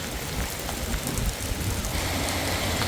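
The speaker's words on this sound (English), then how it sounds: "it hit monsoon season and it's raining today" Heavy monsoon rain pours down in Arizona, a loud, steady, dense hiss of drops hitting surfaces all around, with no voices.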